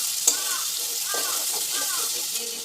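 Ground spices with Kashmiri chilli and garam masala fry in hot oil, a steady bright sizzle with a few soft scraping stirs for an egg and potato curry.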